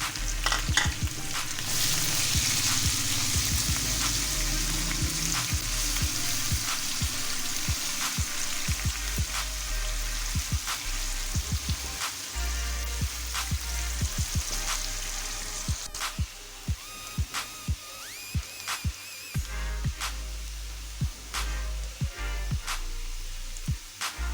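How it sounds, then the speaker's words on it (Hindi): Finely chopped onions fry in hot oil in a pan for besan altay paltay, a steady loud sizzle close up, broken by frequent sharp scraping ticks of a spoon stirring, with no voices. "ये प्याज हमारा अच्छे से फ्राई हो गया।"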